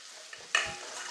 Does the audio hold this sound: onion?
yes